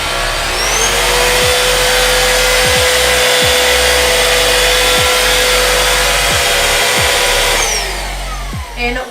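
A Black+Decker cordless handheld vacuum cleaner runs with a loud, steady high whine for about eight seconds, with faint clicks and knocks as it moves over carpet, then winds down near the end.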